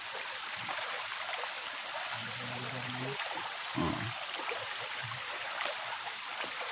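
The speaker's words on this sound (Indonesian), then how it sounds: "Nah, ini adalah sungai yang jarang orang kesini." A seldom-visited forest river in Borneo flows with a steady, close rushing wash, joined by a couple of faint low knocks partway through.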